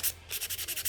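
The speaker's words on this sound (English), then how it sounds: "I didn't sand before, so I'm gonna have to give it a nice sand" Sandpaper rubbing over a red-painted wooden sign piece from a DIY kit, in quick back-and-forth strokes, about seven rasping passes in under a second, close and fairly quiet with no talking.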